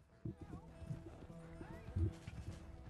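Faint hoofbeats clop in an uneven rhythm with a tired horse snorting in the video game Red Dead Redemption 2, while someone talks over the sounds.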